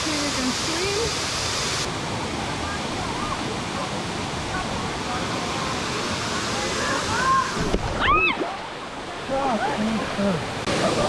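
Erawan Waterfall in Thailand rushes in a loud, steady wash of flowing water close by, with voices and a few splashes breaking through near the end.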